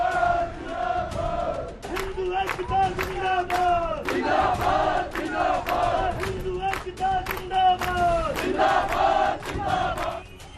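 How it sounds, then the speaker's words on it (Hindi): Crowd of protesters, mostly young men and some women, chants slogans at a rally over illegal mosque construction in Shimla, with massed rhythmic shouting and sharp claps continuing throughout at a steady, fairly loud level. "इस भीड़ में ज्यादातर नौजवान हैं, कुछ महिलाएं भी हैं, मौके पर वर्दीधारी भी हैं और इसी बीच नारेबाजी भी है।"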